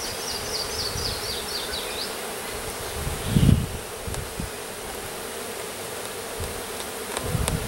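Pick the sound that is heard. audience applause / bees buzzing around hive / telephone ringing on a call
bees buzzing around hive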